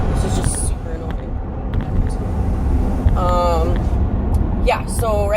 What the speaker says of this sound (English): this semi-truck is so loud